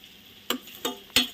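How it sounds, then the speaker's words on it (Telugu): Whole spices, including mustard seeds, cumin, fenugreek, coriander, cinnamon, cloves and cardamom, fry in a pan, giving three sharp, separate pops over a quiet background. "ఇట్లని ఫ్రై చేసేసుకోవాలి మనం."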